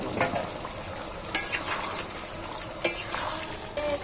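Potatoes are stirred and sautéed with spiced chicken in a pan, giving a steady close sizzle and frying hiss, with a spoon scraping the pan and two sharp metallic knocks.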